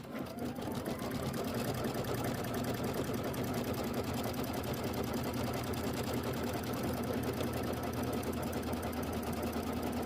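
An embroidery machine stitches out a quilt block in a steady, fast, rhythmic whir of needle strokes, continuous and close throughout with no talk.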